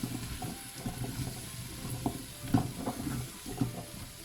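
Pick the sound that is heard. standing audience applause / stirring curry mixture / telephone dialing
stirring curry mixture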